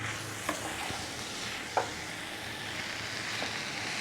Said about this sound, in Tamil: நூடுல்ஸை போட்டு 2 நிமிஷம் வதக்கணும்.